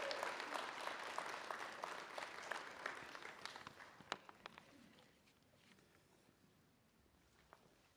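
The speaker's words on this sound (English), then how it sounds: "So give them a round of applause and then please be seated." Audience applause fills a nursing pinning ceremony for a community college's 2021 class, dense clapping for about five seconds before it thins into scattered claps and settling noise.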